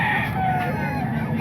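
A crowd of chickens and roosters clucks and crows steadily at a cheap poultry stall in the Calumit tiangge market, a dense, continuous flock noise close by.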